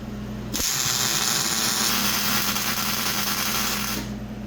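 Tack welding a Jeep trackbar bracket (Artec): a steady, loud buzzing crackle of the welding arc runs for about three and a half seconds alone, starting abruptly and cutting off near the end.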